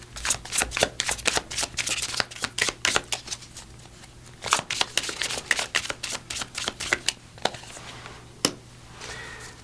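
A deck of angel number tarot cards being shuffled close up, with quick repeated riffling bursts and snaps in an irregular rhythm over the whole stretch, with no talking.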